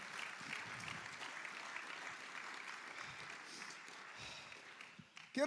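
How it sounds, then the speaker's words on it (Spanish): A church congregation applauds during an afternoon Spanish-language service, a fairly quiet, steady wash of clapping that holds for several seconds before a louder burst at the end. "Dale un aplauso al Señor en esta tarde,"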